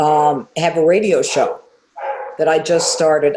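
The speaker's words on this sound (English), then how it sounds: "I apologize about the dogs" Dogs bark in a home, short yips and barks mixed in and overlapping with someone talking close to the microphone.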